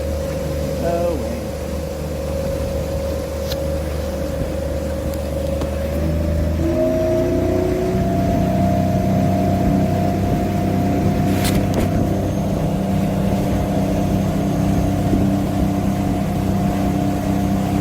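Steady, even hum of a Briggs & Stratton electric outboard motor at half throttle pushing a boat, with a constant drone and water noise underneath that persists unchanged throughout.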